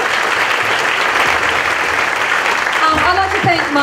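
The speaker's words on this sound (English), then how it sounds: "To Chris Stewart, give him a round of applause" Loud, dense applause from a theatre awards audience at the 2016 Matilda Awards fills the room steadily, and a voice begins speaking over it near the end.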